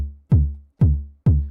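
808 kick drum layer played bare, without an envelope: three loud, booming hits at an even pace, each with a sharp attack and a long, low sustain that slowly fades before the next.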